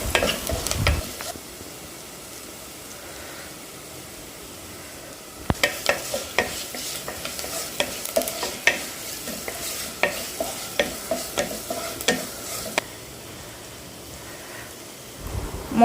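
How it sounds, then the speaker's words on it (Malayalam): Crushed chilies and onions with turmeric fry in a pan for a home-style curry, giving a steady soft sizzle, then a run of rhythmic scraping spoon strokes about once per second before the sizzle settles again. "മുളകും ഉള്ളിയൊക്കെ നന്നായി മൂത്ത് വരുമ്പോൾ"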